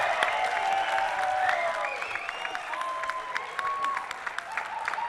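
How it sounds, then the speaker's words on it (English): A conference audience gives a round of applause at the close of a remediation session, steady dense clapping for about five seconds with cheering voices and whoops rising over it. "give these guys a round of applause"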